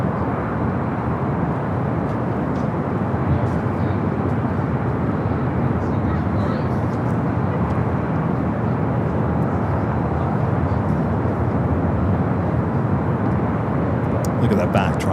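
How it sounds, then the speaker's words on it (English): An Alaska Airlines Boeing 737-900ER arriving at Los Angeles airport from Seattle gives a continuous, loud engine roar and rushing rumble, with a voice talking over it. "Next arrival is Alaska, flight 696, coming up from Seattle, is 737-900ER"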